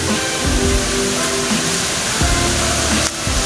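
Goa Giri Waterfall, reached through a cave, gives off a steady broadband roar of falling water that continues unbroken for several seconds at a moderate distance.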